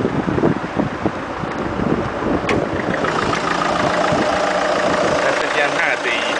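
A Peugeot 407 with a 2.0 HDI diesel engine runs at a steady idle, a close, even rumble mixed with wind buffeting on the microphone and no speech heard over it.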